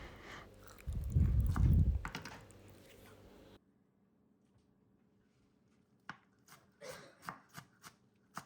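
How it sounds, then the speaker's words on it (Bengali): Water spinach is cut in a home kitchen: a loud, muffled burst of cutting, a short pause, then a few quieter, separate chops and taps close by. "এই তো ভালোভাবে ধুয়ে আমি শাকটা এখন কেটে নিচ্ছি।"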